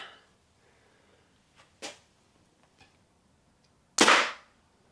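Arrow loosed from a short-axle compound bow, a single sharp snap and thwack near the end, preceded by a few faint clicks and taps in a quiet space.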